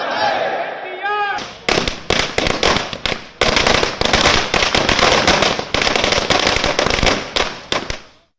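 Firecrackers bursting in rapid, dense volleys at a political party celebration marking a two-year anniversary, loud and continuous after a brief opening of crowd voices, with sharp cracks overlapping for several seconds.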